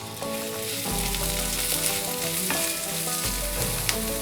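Onion frying in hot oil in an iron pan for a chicken curry, giving a loud, dense and continuous sizzle up close with stirring scrapes and clinks over it and nobody talking.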